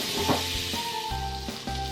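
Butter melts in a hot pan on a low flame, giving a steady, gentle sizzle and hiss, with faint tonal hum in the background and no talking.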